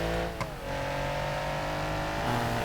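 In BeamNG.drive, a car with an underpowered rear-mounted French engine accelerates, its steady engine note climbing and then shifting near the end, with a brief tire sound early on and no talk.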